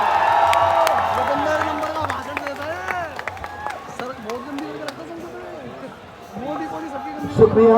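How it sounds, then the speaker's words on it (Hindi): A rally crowd at Jantar Mantar claps and cheers for an arriving speaker, steady scattered applause and whoops mixed with loud overlapping voices and calls from the crowd. "जोरदार तालियां आ जाए।"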